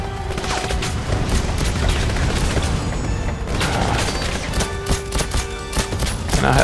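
Gunfire in the video game James Bond 007 Legends, dense bursts of loud automatic shots and booms rattling almost continuously, close and aggressive, with short gaps between volleys.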